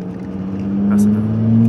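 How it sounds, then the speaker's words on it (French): An Audi A5 3.0 TDI V6 diesel with a stage 2 remap and automatic gearbox revs hard, its droning engine note rising in pitch and growing louder over a couple of seconds. "Là, celui-là, il y a vraiment une belle sonorité pour un diesel"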